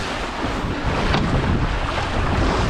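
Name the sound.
wind while sailing an RS600 dinghy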